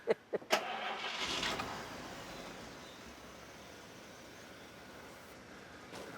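A 1953 Barris custom car's engine cranks with a few sharp clicks, then catches and settles into a low, steady idle rumble that holds at moderate volume.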